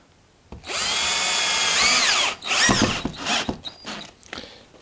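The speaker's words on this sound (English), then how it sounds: "And now we just are going to take some screws. And screw to the floor." A power drill drives screws into a floor while installing hearth prep for a pellet stove, with a long whirring run, then shorter bursts and clicks as the screw seats, close and loud with no talking.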